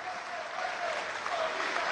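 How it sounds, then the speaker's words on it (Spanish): A crowd at a May Day rally applauds construction workers, dense steady clapping filling the whole moment at even strength. "Un aplauso para los trabajadores de la construcción, trabajadores y trabajadoras de la construcción,"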